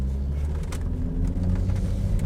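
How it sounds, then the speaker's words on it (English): Diesel Volvo XC90 D5 driving in Spain, a steady low engine and road rumble heard from inside the cabin, continuous and fairly loud with no talk. "so we're driving the XC90 D5"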